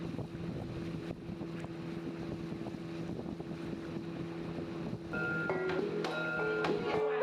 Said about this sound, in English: The 1 hour trip back to the jetty was exciting because I was in the fast boat.